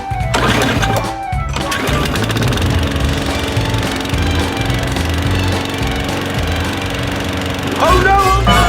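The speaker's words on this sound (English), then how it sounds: "Jason, we should mow the grass." Lawn mower cutting grass in a backyard, a loud steady engine drone with a rough rattling chug that runs continuously, with voices speaking over it at times.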